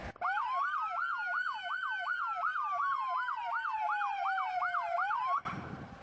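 A SoundOff siren on a 2017 Ford Police Interceptor Utility K-9 plays a rapid warbling yelp over a slower wail underneath, loud and close, for about five seconds before stopping abruptly.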